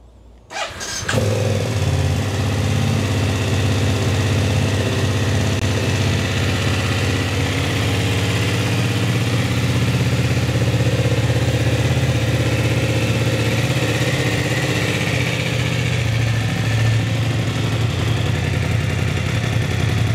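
A 2023 BMW F900R Sport motorcycle with keyless ignition starts after a short crank and settles into a steady, loud idle that holds evenly close by with no talk.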